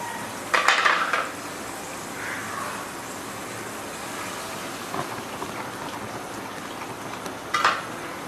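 A spoon scrapes and clinks against a pot of beef paya nihari during stirring, a few distinct metallic knocks over a soft continuous simmering hiss.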